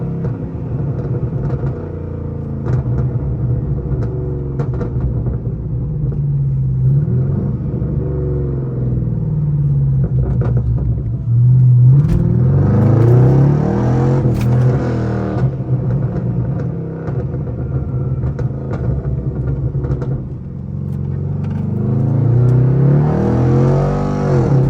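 Straight-piped Pontiac G8 GT exhaust rumbling loudly from inside the car while driving, with a steady deep drone that swells into harder revving surges around the middle and again near the end, with no talk.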